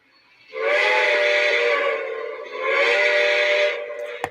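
A model steam-style train whistle blows in two long, loud chord-like blasts with a short dip between, ending with a small click.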